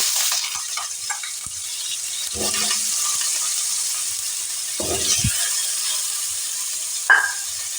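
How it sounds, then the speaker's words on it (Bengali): Small cut potato pieces fry in oil with turmeric in a pan, a steady close hiss and sizzle with a few scattered clanks and scrapes from stirring, no one speaking. "আলুগুলোকে আমি এখন ছেড়ে দেব"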